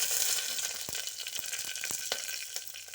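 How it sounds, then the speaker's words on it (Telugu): Green chillies frying in hot oil for an aloo peas curry, a steady close sizzle with a few sharp crackles and pops scattered through it. "ఈ పచ్చిమిర్చి వేగుతున్నాయి కదా"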